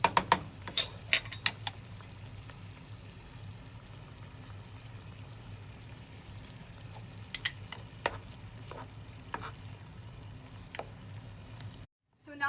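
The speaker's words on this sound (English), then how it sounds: "we're going to add in our tomato paste and spices, and we're going to mix that until we just like create a sauce" Tomato paste and spices being stirred into a sauce in a pan, giving a quiet, continuous low sizzle with scattered clicks and scrapes of the utensil against the pan.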